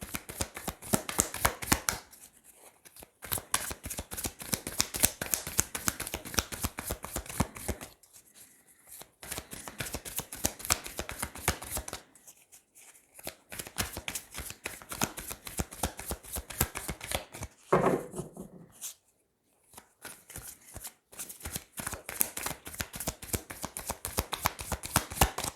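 Tarot cards are shuffled by hand in long runs of rapid, crisp riffling and flicking, close and clear, stopping briefly several times before starting again, with no talking.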